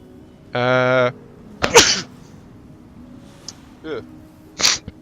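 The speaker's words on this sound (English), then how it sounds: "One moment, I'm going to sneeze." A single sharp sneeze bursts out close to the mic, followed by a few short breathy sounds and rustles.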